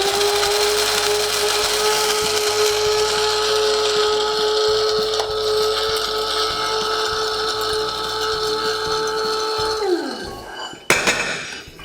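A spice grinder whirs loudly and steadily as it grinds spices, holding one even motor pitch for about ten seconds before spinning down, followed by a sharp clack.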